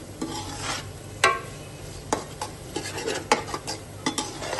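Garam masala for borani eggplant stirred and fried in a pan: repeated close scraping strokes and light clinks of a spoon against metal, irregular in rhythm, over a soft continuous sizzle.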